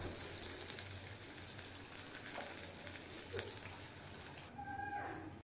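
KFC-style chicken frying in oil over medium heat, a steady, soft crackling sizzle throughout that cuts off abruptly at the end.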